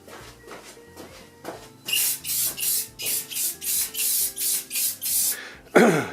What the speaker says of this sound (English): And I'm going to spray some of this matte clear over it.